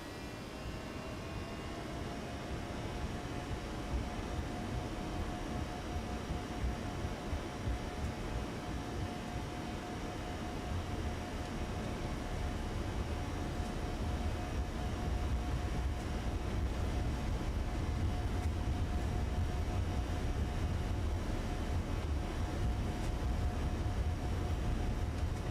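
Simulated Airbus A321neo engines at takeoff throttle in a Toliss flight simulator give a continuous broadband roar with a faint steady whine. It grows slightly louder and deeper over the run.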